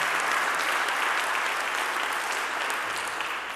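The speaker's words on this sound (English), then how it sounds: "Please give them a round of applause" A room full of people at a community program on youth incarceration claps loudly and steadily, an unbroken wash of applause with no letup throughout.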